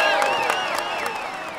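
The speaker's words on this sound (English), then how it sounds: "Come on, let's applaud him once more." A video game crowd at a cycling race applauds and cheers, dense clapping with whistles and swelling tones, loud and sustained over the whole short stretch.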